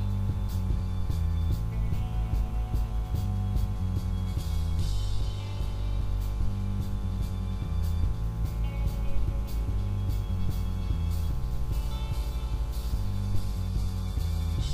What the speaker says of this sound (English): Add it while the mixer is running.